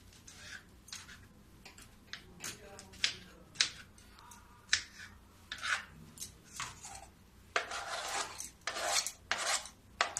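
A knife chops a muskmelon into pieces for a sherbet, giving a run of crisp, irregular cutting taps and rasping slices up close, some clustered in quick bursts, with no one talking.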